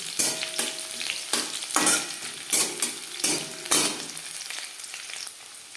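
Onions frying in a pan for a mashed taro (maan kochu) dish, with loud sizzling broken into about six bursts as a utensil stirs and scrapes, no talking.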